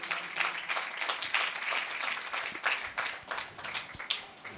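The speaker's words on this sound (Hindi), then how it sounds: "जोरदार तालियां उसके जलाल के लिए" A church congregation applauds during a Hindi-Urdu sermon, a fairly faint, continuous wash of many hands clapping with uneven swells and no voices.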